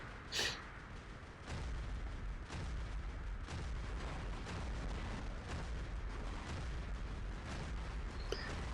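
Thunder weapons fire at a distant bot in the Carnage Thunder game: a steady series of booming shots with a low rumbling bed, moderately loud and evenly spaced, with no voices.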